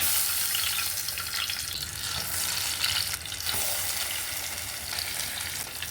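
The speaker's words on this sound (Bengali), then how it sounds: "মিডিয়াম আছে ভেজে নিচ্ছি, ঠিকই দিলাম, এতে অনেকটা সফট হয় আর সুন্দর জুসি হয়।" Sliced ash gourd pieces fry in oil over medium heat, making a dense, steady, close-up sizzle that barely changes throughout, with faint movement underneath.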